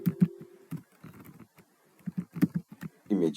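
Someone types on a computer keyboard in short bursts of clicky keystrokes with brief pauses, close and fairly quiet, ending in a quick run of taps.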